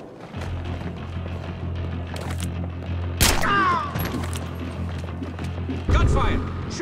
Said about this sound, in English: Gunfire! Shooters over there!